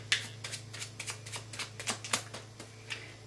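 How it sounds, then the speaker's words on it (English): A deck of playing cards being shuffled for a card trick, a run of crisp riffling flicks and soft slaps in an uneven rhythm, close and fairly quiet over a steady low hum, with no talk. "we're going to take the deck and we're going to give it a nice shuffle"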